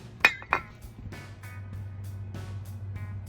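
Sharp metallic clinks as brake pads and clips are set into place on a 2005 Mini Cooper, followed by softer taps and handling noises over a low steady hum.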